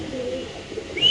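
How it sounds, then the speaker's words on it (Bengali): Pigeons at a large pigeon farm in Mirpur, Dhaka, coo in low, rolling murmurs up close, ending with a brief higher chirp from one bird, with no talk over it. "এখানে আছে একজোড়া কবুতর, খুব সুন্দর"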